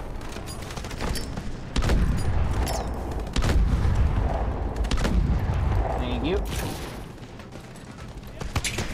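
Grenade explosions in the Call of Duty: Advanced Warfare campaign, several heavy booms and bursts of gunfire in a dense battle din, loud and close throughout.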